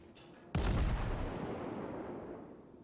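Naval gunfire in World of Warships: a single heavy artillery boom hits suddenly after a short quiet stretch, then a long rumbling tail fades slowly, with no talk.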